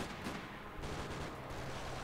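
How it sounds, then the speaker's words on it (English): Dense gunfire from the third-person shooter Max Payne 3: a continuous, loud wash of rapid shots and battle noise that is steady throughout, with no talking. "Where's all this gunfire going down at?"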